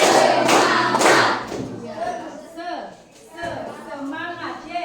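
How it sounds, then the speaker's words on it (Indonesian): A group of people claps the tepuk semangat spirit clap three times in a classroom-style learning session, a few loud, sharp bursts near the start followed by a voice talking. "tepuk semangat 3 kali"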